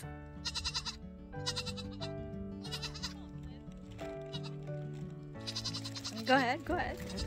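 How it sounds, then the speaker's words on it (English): Feral goats bleat in short, wavering calls on the jagged cliff ridges of the Valley of Rocks, heard over a steady bed of music, with louder bleats toward the end. "I'm accompanied by feral goats that roam freely on the jagged cliff ridges."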